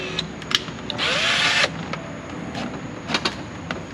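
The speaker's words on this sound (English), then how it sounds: "now we're drilling the hole for the wire" A power drill bores a hole for a wire through a BMW's leather interior trim in a short burst of about half a second of whirring, surrounded by faint clicks and handling noises in a quiet car.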